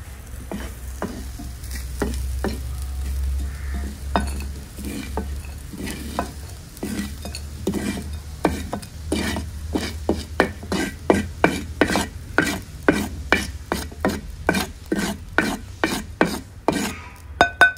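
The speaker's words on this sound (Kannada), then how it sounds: "ಒಳ್ಳೆ ರೋಸ್ಟ್ ಆಗಿದೆ ನೋಡಿ, ಇದನ್ನು ಇವಾಗ ತೆಗೆಯುವ." A spatula scrapes roasted grated coconut and chillies around a hot frying pan. The rough strokes start irregular and steady into a fast, rhythmic series of sharp scrapes near the end, over a low background hum. Nobody speaks.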